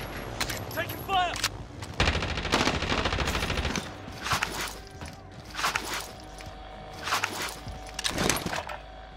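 Gunfire in a battle royale video game: repeated bursts of automatic fire and single shots come in clusters, loud and close, with game voice lines and footstep-like clatter between them.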